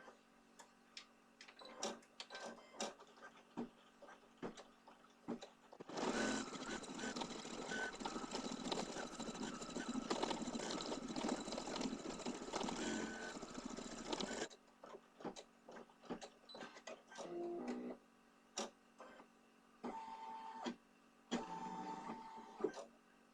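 An embroidery machine sews a placement stitch for a leprechaun design, a quiet mechanical clatter of rapid ticks. A dense, steady burst of stitching runs in the middle, with short start-and-stop bursts before and after it and no talk.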